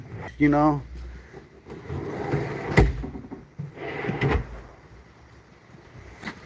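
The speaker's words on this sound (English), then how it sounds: "this is a huge, 3-section cabinet with these big ass drawers" Large drawers of a huge three-section cabinet slide open and shut in a few heavy, close-up thuds and rolling scrapes, with someone talking between them.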